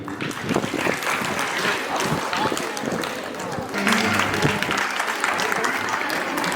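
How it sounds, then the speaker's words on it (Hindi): Audience applause at a hostel birthday celebration in Gumla, Jharkhand, welcoming a dance performance; steady, dense clapping from a crowd fills the whole stretch, with faint voices and music underneath. "तो चलिए हम जोरदार तालियां बजा दें।"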